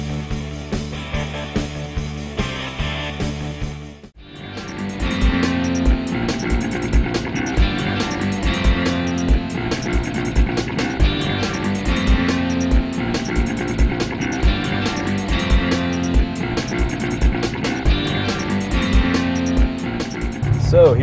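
A 2010 Chevrolet Corvette Grand Sport V8 idles, then drives with a steady engine drone and road noise heard from inside the cabin, while someone talks over it throughout.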